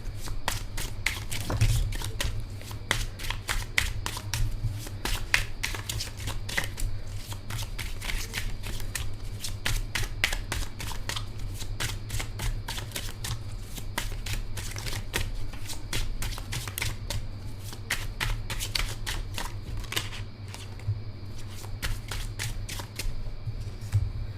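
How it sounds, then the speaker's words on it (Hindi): Tarot cards being shuffled and drawn, a steady run of close, crisp riffling and flicking that carries on without a break over a low hum. "मैं 4 कार्ड्स एक साथ निकालूंगी"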